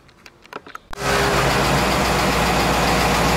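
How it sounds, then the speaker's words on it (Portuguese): A Volkswagen Kombi engine with a carburettor cranks after a few quiet clicks and bursts into life, then runs at a steady, loud idle, close by. "Mas a nossa Kombi, ó, tá funcionando."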